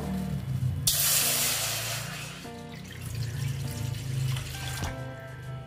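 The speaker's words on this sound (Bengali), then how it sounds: "একটা কড়া বসিয়ে দিলাম, তারপরে এখানে আমি দিয়ে দিচ্ছি জল" Water poured into an empty karahi (wok) for steaming a semolina batter, a loud spraying gush that starts abruptly and then settles into a softer trickle with faint clinks.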